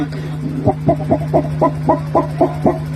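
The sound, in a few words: voice imitating a hen calling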